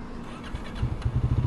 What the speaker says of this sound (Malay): kita start engine, okay, tarik clutch